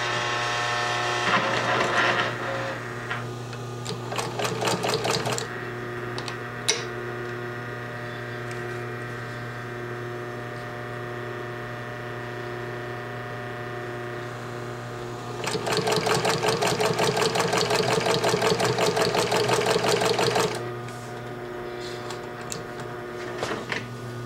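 An industrial Singer 20U53 sewing machine runs at a 5 mm stitch length, a steady mechanical hum with rapid rhythmic ticking in two loud bursts separated by a quieter idle stretch.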